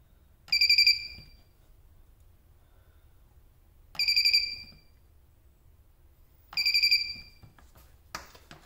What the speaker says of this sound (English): I don't love the beep every time I spot weld.